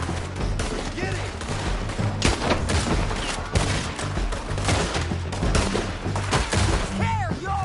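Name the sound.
gunfire in a PS4 video game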